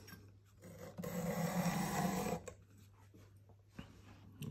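File stroking across the blade of a three-blade broadhead, one close, raspy scrape lasting over a second, followed by quiet handling and faint ticks.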